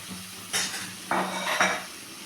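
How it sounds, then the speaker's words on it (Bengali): Chicken with onion, spices and ginger-garlic paste being stirred in a frying pan, a few metallic scrapes and clanks of a spoon against the pan over a low sizzle. "চিকেনটাকে দিয়ে একটু নাড়াচাড়া করে নেব খুব অল্প সময়ের জন্য একটু ভেজে নেব"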